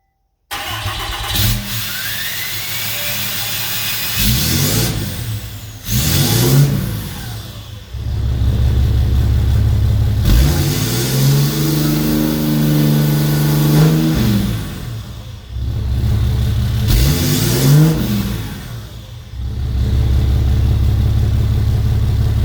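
A 2013–2018 Ram 6.7L Cummins diesel with a DPF delete race pipe and no muffler, revved repeatedly: loud, close blips that rise and fall over a rough idle.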